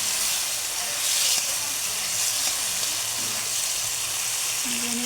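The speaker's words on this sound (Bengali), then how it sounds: "এখন আমি এটাতে 2টা টমেটো কুচি দিয়ে দিলাম। আমার দেওয়া হয়ে গেল। এখন আমি এটাকে নেড়ে একটু কষিয়ে নিব।" Chopped tomatoes stirred and fried in a pan for an egg curry, giving a steady sizzle with soft hiss and faint scraping throughout, no voices.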